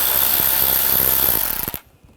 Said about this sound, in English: Use a T20 socket.